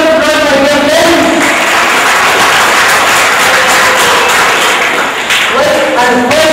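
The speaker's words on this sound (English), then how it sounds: "A big round of applause for your parents." An audience at a school awards evening applauds parents with loud, steady crowd clapping, close and sustained, while a voice speaks briefly at the start and again near the end.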